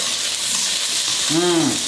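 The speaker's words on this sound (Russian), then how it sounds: "Андрей, покажи поближе вот, как у нас тут все это шкварчит, шипит" Garlic sizzles in a frying pan while cooking tom yum pasta, a dense, steady hiss and crackle heard close up, with a short tonal hum rising over it near the end.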